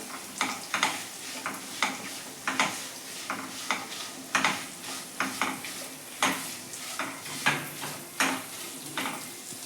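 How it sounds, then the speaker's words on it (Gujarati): A spoon stirs sabudana khichdi with crushed peanuts in a pan, giving rhythmic scraping strokes about once a second over a light sizzle, close and clear with no talking. "હવે આપણે આ બધી જ વસ્તુને મિક્સ કરી લઈશું."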